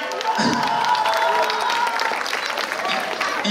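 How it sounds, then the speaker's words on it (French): Enthusiastic applause from a youth conference crowd in Bouaké for a man named Jefferson, continuous and close, with scattered cheers and voices mixed into the clapping. "Il y a le frère Efferson qui voudrait qu'on applaudisse très fort pour Jefferson."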